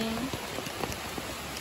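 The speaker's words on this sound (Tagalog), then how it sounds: "Kusugi ang ulan." Heavy rain falling outdoors, a steady close hiss of dense drops with scattered individual spatters on surfaces.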